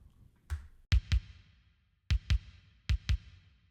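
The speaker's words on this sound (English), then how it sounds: "Sort of a pretty not very bottom heavy and reverby kick" Kick drum from an eFunk drums kit, light on low end and washed in reverb: seven thumps in pairs and singles with decaying tails, heard alone.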